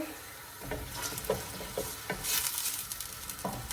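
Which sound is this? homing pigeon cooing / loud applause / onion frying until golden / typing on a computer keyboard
onion frying until golden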